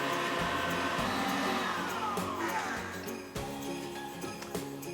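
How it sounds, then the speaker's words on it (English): Electric mixer running on high while whipping cream flavored with maple syrup, a loud steady motor whir that holds for the whole stretch with slight shifts in pitch as the cream thickens, with no talk over it. "then we're going to crank up the mixer to high to get those peaks that we want to form"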